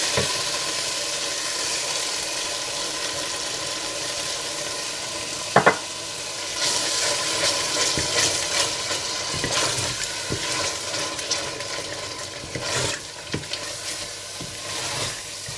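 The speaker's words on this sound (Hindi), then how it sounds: "आप इसमें दही डालकर मिला लें और अच्छा सा भून लें।" Masala and yogurt sizzling and being stirred in a pan for fish biryani, a steady frying hiss with scraping stirs that grow busier partway through, plus a few sharp utensil knocks, close and without talk.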